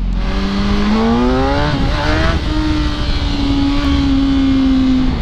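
A motorcycle engine revs up hard on a Miami road, its rising pitch climbing through a short power wheelie before settling into a sustained high drone, loud and close with wind noise.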